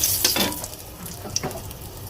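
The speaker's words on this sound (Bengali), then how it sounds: "দিয়ে দিলাম শুকনো মরিচ ফোড়ন" Dried red chilies are dropped into hot oil for tempering, giving a close, continuous crackling sizzle with a few light clinks of a utensil.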